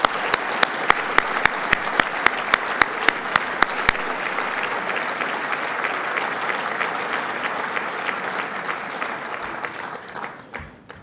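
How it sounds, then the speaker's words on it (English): An audience applauds board members at an inaugural address in a steady, full round of clapping with a few sharp, close claps standing out early on. The sound fades and thins toward the end. "round of applause."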